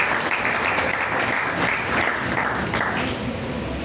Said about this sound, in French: Acclamons le Seigneur ensemble pour continuer ça.